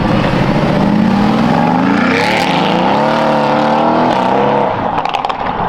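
A powerful GTS sports car with a custom Valvetronic exhaust roars loudly and continuously, its exhaust note rising in pitch as it accelerates, then easing slightly near the end.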